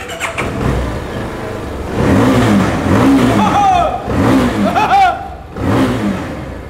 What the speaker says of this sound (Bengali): যদি বাইকটা অন করা যায়